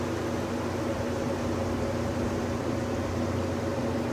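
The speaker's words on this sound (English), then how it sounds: "I'm right under the air conditioner for the concession stand. That's what that noise is." A concession stand air conditioner hums steadily on a beach pier, a constant close, even drone with a low tonal buzz and no breaks.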